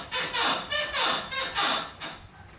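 A worn lower control arm on a 2012 Ford Expedition makes a repeated creaking squeak, about five rhythmic groans in quick succession from the suspension, fairly quiet and close with nothing else over it.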